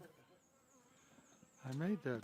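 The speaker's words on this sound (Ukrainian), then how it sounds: "мене дивує, що вже так багато літної бджоли" Faint buzzing of honeybees flying around a hive, a thin insect drone under quiet background before a voice cuts in near the end.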